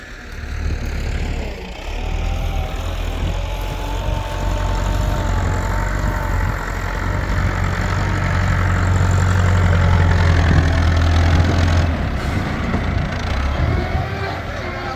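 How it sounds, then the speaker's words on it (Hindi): A tractor engine runs steadily while it loads riverside soil into a trolley, a loud low diesel rumble with a constant droning hum and some shifting load noise, continuous and close throughout. "ट्रैक्टर ने इस ट्राली में मिट्टी डालना शुरू कर दिया है।"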